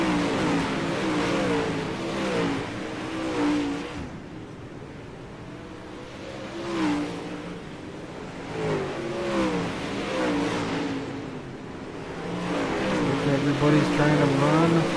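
Super late model race cars roar around the track at Lanier, engine noise swelling and fading in waves as the cars pass, with a voice mixed in.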